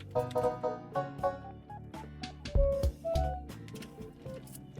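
Short plucked, bell-like Minecraft note block notes form a bouncy melody with low bass tones, fairly quiet and rhythmic, no voices.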